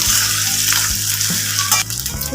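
Dry fish fries in hot oil in a village-style kitchen, a close, loud and continuous sizzle with occasional stirring scrapes and no voices.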